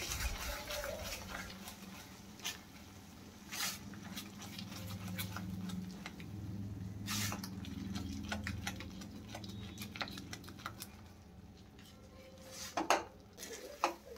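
Turmeric being stirred into a masala in a pan for Mughlai egg curry, with scattered utensil clicks and scraping against a low, steady cooking hiss, moderately quiet, with no talking.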